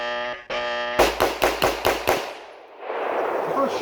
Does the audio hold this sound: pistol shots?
yes